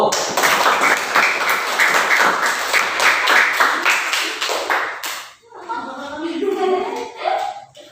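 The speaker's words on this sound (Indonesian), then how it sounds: "Tepuk tangan untuk kelompok 1." A classroom group claps together for several seconds, bright and close, then the clapping stops and children's voices chatter.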